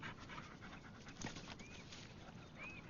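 A dog pants quietly in rapid, rhythmic breaths close by, with a brief whimper-like squeak partway through and no talking.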